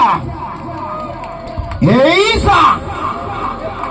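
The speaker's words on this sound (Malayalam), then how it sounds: "കാണികളൊന്ന് കൈയടിച്ച" Spectators at a Kerala vadamvali tug of war match erupt in a loud burst of cheering and whooping, with excited shouts and crowd babble rising sharply midway and lingering in the background.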